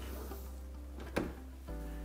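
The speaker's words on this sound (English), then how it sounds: "Close our door" A Samsung dishwasher door swings shut after its upper rack is reinstalled, a single sharp thump followed by a duller latch click, against a steady low hum.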